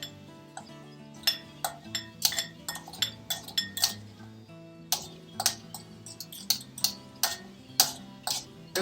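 A knife chopping oysters for oyster stew on a cutting board, sharp irregular clicks and clinks in quick bursts with short pauses between, close and clear.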